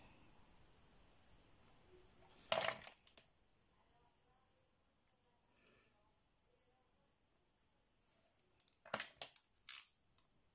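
Scissors cut paper for a scrapbooking page: a single crisp snip near the start, then quiet, then a quick cluster of sharp snips toward the end, close and fairly soft.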